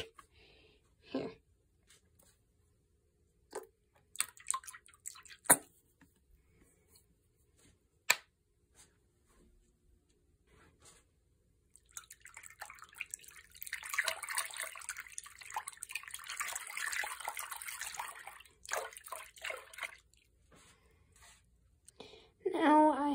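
Fidget toys are washed and swished in water, first with scattered short clicks and splashes, then a steadier stretch of sloshing and running water, ending in a few more drips and knocks.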